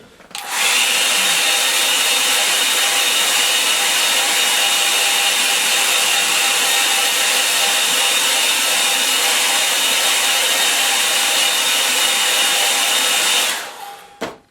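A hair dryer blows onto clipped watercolour paper, a loud, steady whooshing roar that switches on after a second, holds evenly for about twelve seconds, then cuts off.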